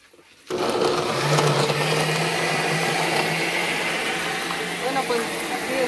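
A blender whirs as it purees tomatoes in a home kitchen, starting abruptly and running as a loud, steady motor drone for several seconds, close by, with faint voices in the background.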